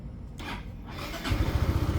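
A Yamaha Force 155 motorcycle engine cranks and catches, settling into a loud, steady idle with a rhythmic low-end throb.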